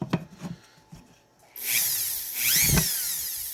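Dremel rotary tool on a flex shaft, running at about 20,000 RPM while sanding a wooden back board, starts with a sudden high whine after a few soft handling knocks, then grinds steadily with a surging pitch as it bites the wood.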